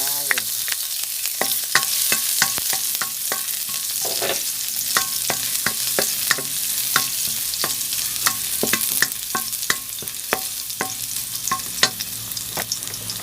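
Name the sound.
garlic frying and being stirred in hot oil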